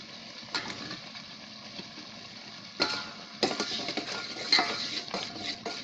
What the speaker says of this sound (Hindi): इसमें आलू डालते हैं जो हमने पहले से फ्राई करके रखा था।